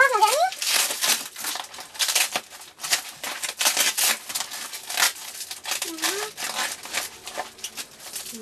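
Plastic wrapping of a Banggood parcel being crinkled and torn open up close, busy continuous rustling and crackling, with brief bits of a voice in between.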